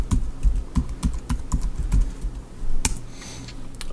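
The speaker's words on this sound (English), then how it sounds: "All you have to do now is put in your password." Fast, close clacking of keys as a password is typed on a computer keyboard, irregular taps in quick bursts with a heavier final keystroke near the end.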